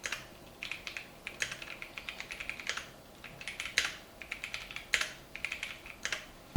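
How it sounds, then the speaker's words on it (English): Rapid, uneven keystrokes on a Keychron Lemokey L1 QMK hot-swappable mechanical keyboard in a home office, clacking steadily at close range with occasional louder key hits and no talking. "It's a mechanical, hot swappable keyboard that Keychron actually sent over to me about a year ago."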